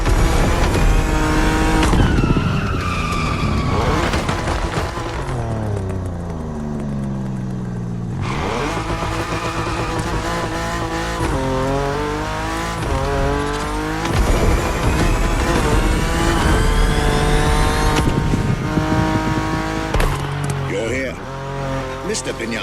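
A Ferrari F50 road-legal sports car in The Crew Motorfest roars through loud, continuous revving with rising and falling gear sweeps, tire squeals and a brief lull mid-run, mixed with game music or talk throughout.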